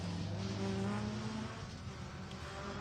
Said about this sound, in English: Fantastic work as we see car 38 blasting its way past there.